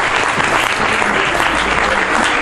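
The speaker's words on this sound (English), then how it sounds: "Give her a nice round of applause." Audience applause fills a theatre show as a volunteer is welcomed on stage, a dense, steady burst of clapping from a large crowd that holds loud and even throughout.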